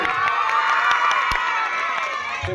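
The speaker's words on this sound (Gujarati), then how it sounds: "ભાઈ તાળીઓ તો બગાડો, જોરદાર તાળીઓ રવિવારના છે દાતાઓને." A school crowd on Republic Day cheers loudly and claps for donors, a dense, steady roar of voices with children shouting, sustained close by for the whole stretch.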